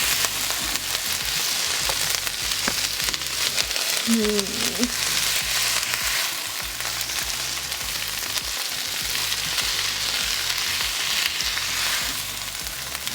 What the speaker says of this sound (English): Now I'm saute it with a onion.